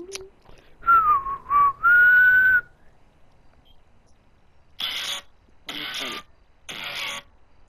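A person whistles, close and clear: a short warbling phrase of a few notes followed by a sustained held tone, then silence and three separate bursts of noisy sound.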